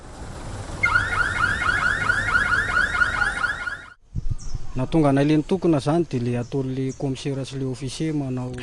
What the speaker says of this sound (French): des coups de klaxon à n'en plus finir